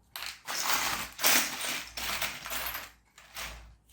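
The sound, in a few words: rummaging through a box of Meccano nuts and bolts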